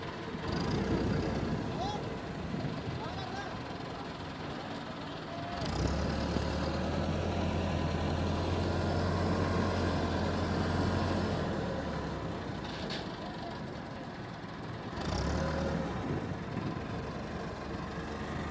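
A Massey Ferguson tractor labors up a dirt slope hauling a heavily loaded sugarcane trolley, its engine droning steadily with surges of strain, while people talk over it.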